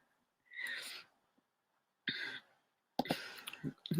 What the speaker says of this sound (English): it sounds like you have a naughty cough today